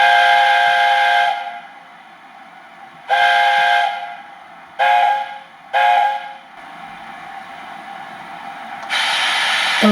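Steam locomotive whistle from an Econami DCC sound decoder in a Mallard model, loud close blasts: one long, two shorter, a quick double, then a final long toot over faint background hiss.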